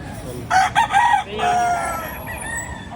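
Rooster crows twice at a chicken market in Lipa, Batangas, a fairly close, loud cock-a-doodle-doo followed by a softer second call, with faint market background.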